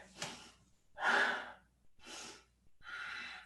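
Slow, deep breaths from a person during a body-mind exercise, four audible inhales and exhales separated by short pauses, soft and close with no talking.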